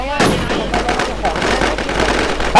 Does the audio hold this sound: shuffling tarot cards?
no